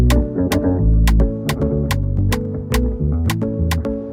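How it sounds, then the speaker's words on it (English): A bass guitar loop snapped to 104 BPM in an FL Studio Afrobeat beat plays with deep rhythmic bass notes under crisp, evenly spaced percussive hits, steady and upfront. "this bass guitar loop is in the tempo of 104"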